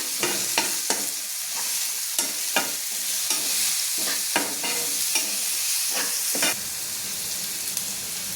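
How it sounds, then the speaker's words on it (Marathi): Green chilies, garlic and whole peanuts sizzle in a pan for a ridge gourd thecha, with a loud, even frying hiss broken by regular close stirring scrapes and no talk. "थोडंसं हे हिरवी मिरची लसूण भी टाकून घेऊ"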